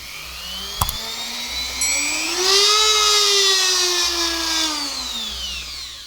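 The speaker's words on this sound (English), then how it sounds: "This is a Dremel clone wannabe, Chinese copy or something anyway." A Parkside rotary tool, a cheap Dremel-style clone, running up to speed with a rising high-pitched whine that holds steady and then slowly eases, close and loud after a sharp click at the start, no talk.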